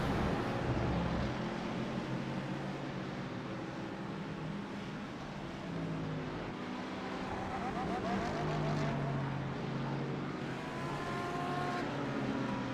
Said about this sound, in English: There goes either Jim Karamanis or Ralph Padgington in one of the ELB Ferraris.